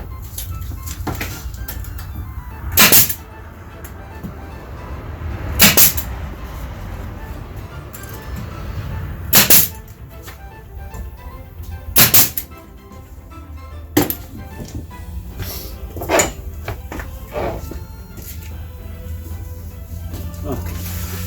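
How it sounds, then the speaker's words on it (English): Brad nailer driving nails into a wooden art display pedestal, several sharp snapping bangs spaced a few seconds apart over a low background hum. "And then I can brad nail it."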